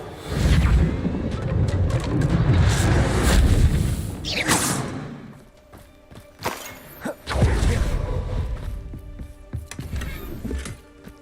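A Bombarda blasting spell from the Hogwarts Legacy video game erupts in a loud, booming burst with a sweeping whoosh, followed by scattered thuds and crashing debris that fade and return in smaller impacts.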